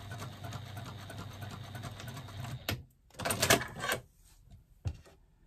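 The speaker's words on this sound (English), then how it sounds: "So top stitching my card slots of 1/8 of an inch seam allowance." A sewing machine top stitches card slots at a 1/8-inch seam allowance, whirring steadily at close range, then dropping into brief bursts of stitching with pauses and a final short run.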